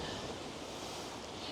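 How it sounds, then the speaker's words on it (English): Outdoors, a steady rush of wind roars across the microphone, broadband and constant for the whole stretch, with no talking. "Just got windy here outside."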